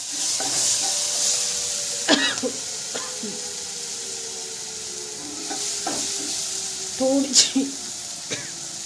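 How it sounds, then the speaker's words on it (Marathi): Potato paratha filling with green chilli paste is stirred and sautéed in a hot pan, sizzling steadily close by. Repeated scraping strokes of the spoon break through the hiss while a person talks over it. "टाकून झाल्यानंतर मस्त असं परतवून घेणार आहोत"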